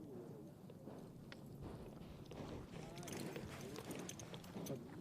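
Polo ponies' hooves clatter in a quick, irregular clip-clop on turf during a British Open polo match between Dubai and Sujan Indian Tigers, heard amid crowd and commentary chatter with steady background noise.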